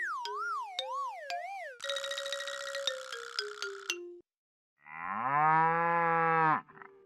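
A cartoon-style cow mooing in a children's music lesson, preceded by bright synthetic tones and chimes, then one long, loud, sustained moo after a brief silence.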